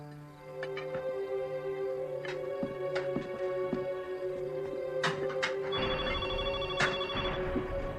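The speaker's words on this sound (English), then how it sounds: "That evening, Chester and I received a phone call." A telephone bell rings repeatedly in bursts over a steady tonal background, with no voices.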